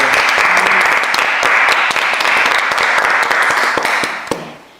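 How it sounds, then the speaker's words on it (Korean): A church congregation claps together in sustained, dense applause to give glory to God, loud and steady for several seconds before tapering off at the end. "오늘 우리의 기도를 들으시고 일하실 우리 주님께 영광의 박수를 올려드리겠습니다"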